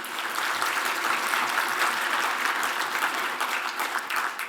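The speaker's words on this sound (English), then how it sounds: "Please give yourselves a round of applause," Steady applause from a large closing-ceremony audience fills the whole stretch, dense and even at moderate distance, with no one speaking over it.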